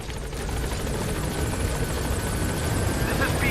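Helicopter Pequod from Metal Gear Solid V: The Phantom Pain, a steady, close rotor whir and engine drone that holds at an even loudness throughout.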